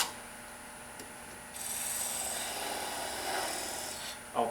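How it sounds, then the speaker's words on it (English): Half-inch spindle gouge cutting a wooden Christmas ornament on a lathe, a soft rasping scrape that starts after a quiet pause and runs steadily for a few seconds, close and fairly faint. "I take my 1/2 inch spindle gouge and I do this"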